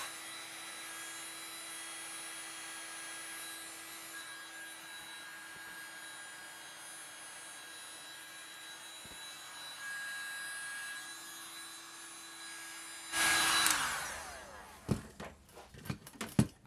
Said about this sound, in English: I'm now wondering whether a hot air gun, which supposedly can do 600 degree heat, will be able to do this.